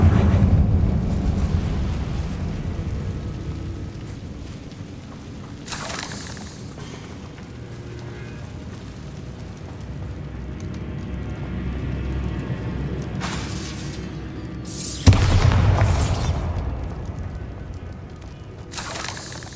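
Bombarda spell blasts in the video game Hogwarts Legacy, with booming explosive bursts around 6, 13 and 15 seconds, the last a sharp loud crack, over a continuous rumbling background of game ambience and effects.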